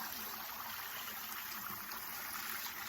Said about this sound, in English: we have a bucket that we put under here and it fills up with all the water